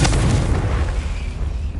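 The Confringo blasting spell in Hogwarts Legacy sets off a single heavy, rumbling explosion that starts loud and slowly trails away over about two seconds.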